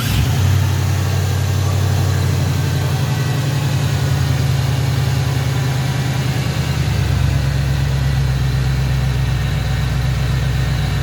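A car engine at a repair shop runs loud and steady at idle, with a deep, even rumble and no change in pace.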